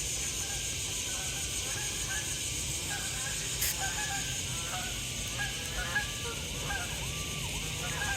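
Geese honk in a repeated series through a summer night soundscape of steady insects and frogs, heard outdoors during a walk with dogs; the calls are moderately distant and sit over a constant high-pitched insect drone.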